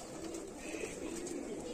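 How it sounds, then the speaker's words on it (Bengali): A large pigeon, a house season tiger breed, coos in low murmuring tones that run steadily and close by, with no speech over it. "এ তো বিশাল কবুতর দেখা যাচ্ছে।"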